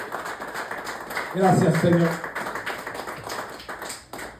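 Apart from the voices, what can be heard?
congregation applause in church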